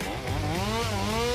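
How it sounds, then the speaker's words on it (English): A chainsaw engine revs briefly as a comedic sound effect, a loud buzzing whine rising and wavering in pitch over a second or so. "Not with a chainsaw"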